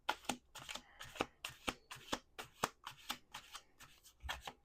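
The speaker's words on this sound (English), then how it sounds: "We're going to do 2 more shuffles." Playing cards riffle-shuffled repeatedly at a table, a quick series of about a dozen crisp, papery bursts in steady rhythm, close and fairly quiet, with no talking.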